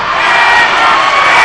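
A home crowd at a boys' high school basketball game against Sale Creek jeers an air ball on a corner three-pointer, a loud, dense wall of voices roaring and hooting steadily with no pauses.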